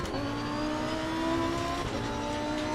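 Race car engine in Assetto Corsa Competizione, racing at Kyalami, revs steadily and loudly throughout with strong harmonic whine and a slight rise near the middle, alone without voices.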